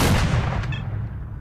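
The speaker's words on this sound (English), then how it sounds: "Is that a shotgun or a..." A shotgun blast in the video game STALKER, one loud booming shot at the start fading into a low rumbling tail, with a second sharp report cutting in at the very end.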